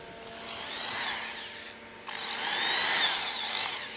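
An electric tapping machine with a speed control runs with a high whine that rises and dips as the speed changes, briefly cutting out before spinning back up louder.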